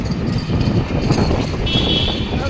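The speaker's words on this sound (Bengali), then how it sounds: "বাতাস অনেক, তো" Strong wind buffets the microphone near the Uttara North metro station, making a steady, dense low roar that runs through the whole stretch with no pause. It is loud and close, with no talking.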